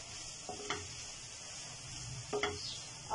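Chicken fajita samosa filling gets stirred in a pan with garam masala and spices: a soft sizzle underneath, with a few scattered spoon scrapes and clinks against the pan, close and fairly quiet.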